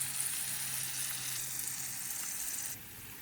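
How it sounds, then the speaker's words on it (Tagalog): Steady, loud sizzling of chili peppers frying in hot oil, a continuous crackling hiss close up that drops slightly in level near the end. "Ang gusto natin dyan na ma-achieve yung maprito-prito na talaga pati itong ating sili."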